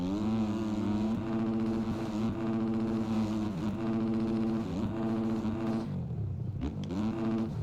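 Triumph motorcycle engine revving and droning steadily while riding a supercross track, with rising and falling pitch through throttle changes and a brief drop near the end, loud and close with no talk.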